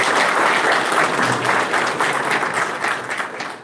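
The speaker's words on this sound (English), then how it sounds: "I will request for you to clap for Dr." Audience applause at a clinical toxicology workshop, a dense sustained clapping from a seated crowd that holds steady and fades slightly at the end.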